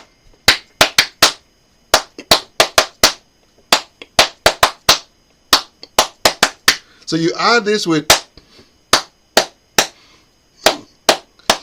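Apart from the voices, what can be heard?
Adowa polyrhythmic hand clapping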